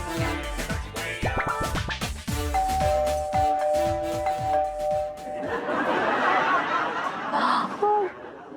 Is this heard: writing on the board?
no